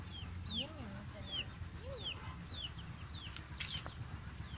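Chickens near the Karacaoğlan waterfall in Mersin cluck and give repeated high, falling peeps at close range, a few calls each second over a steady rushing background.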